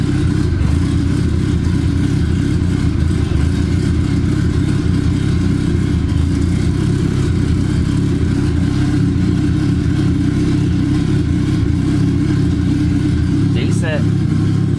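A Honda Civic wagon fitted with a new distributor and MAP sensor idles steadily up close, a loud, even engine rumble throughout with a brief clank near the end.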